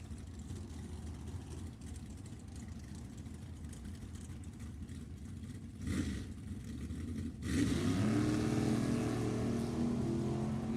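A 1970 Camaro funny car rumbles at Sacramento Raceway, its engine growing louder before erupting into a full-throttle roar as it launches down the drag strip.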